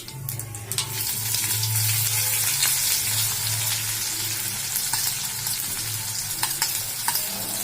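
Cumin seeds and garlic frying in hot oil in a kadai on a gas stove make a steady, close sizzle, with a few scraping stirs and light clicks over it and no voices.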